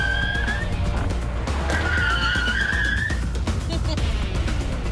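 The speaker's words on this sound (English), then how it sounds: "Get it up to speed and then slam on the brakes." A car brakes hard at speed during a stopping test and its tires skid with a sustained high squeal over steady engine and road rumble, loud and close.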